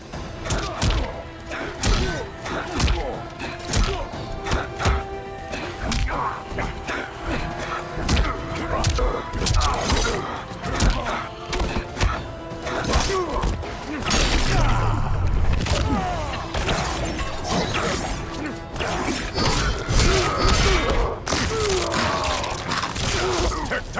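Mortal Kombat combat, a dense run of heavy punches, kicks and slams landing in quick irregular bursts, with grunts and groans mixed in throughout.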